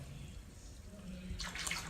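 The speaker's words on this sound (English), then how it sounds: "here we got straight antifreeze, nothing special. Putting it in a 5-gallon bucket first." Straight antifreeze poured from a jug into a 5-gallon bucket, a steady liquid splash and gurgle that swells louder near the end, close by and without talk.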